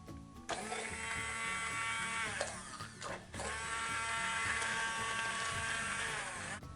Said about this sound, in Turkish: El blenderıyla da püre haline getireceğim.